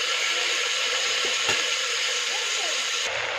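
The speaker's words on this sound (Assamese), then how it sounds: "অলপ সময় ধুনীয়াকৈ ভাজিম" Raw vegetables and green chili fry in a pan, producing a steady, close hiss and sizzle with a few utensil clicks. A voice is faintly heard underneath.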